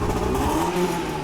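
A car engine revs through its exhaust pipe in a short, steady, fairly loud rumbling burst with no voices.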